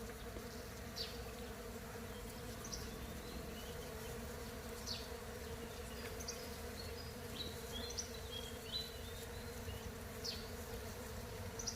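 Steady buzzing of bees hums continuously outdoors, with faint bird chirps scattered over the drone.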